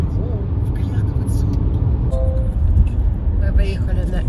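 A car travelling at night on the M7 bypass around Cheboksary, crossing a bridge over the Volga, gives a steady low road and engine rumble from inside the cabin, with a voice speaking over it.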